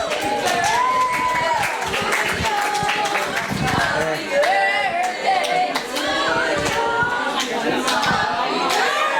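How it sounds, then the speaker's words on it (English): Clapping and cheering from a group playing an interactive Marshall McLuhan board game, dense hands close by with voices and chatter running throughout. "A round of applause"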